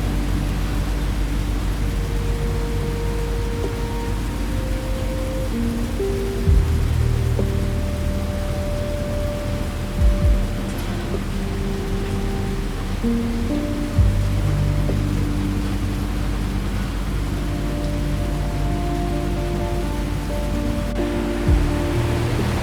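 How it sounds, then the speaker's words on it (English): Steady rain falls at night aboard a vintage British steam railway journey, a dense, even hiss with a low rumble underneath and occasional soft thuds. "The rain falls. It has always fallen."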